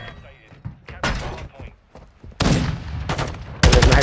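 Gunfire from Call of Duty: Modern Warfare II, with sharp broadband bursts near the end standing out loudly over quieter game sounds and voices.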